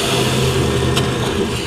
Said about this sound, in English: Can you hear that? That's the sound of the gigantic rollers directly beneath me.